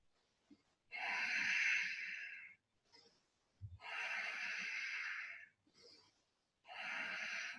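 Long audible exhales during a yoga session, three drawn-out breathy whooshes separated by pauses and short inhales, close to the microphone and fairly soft, with no talking.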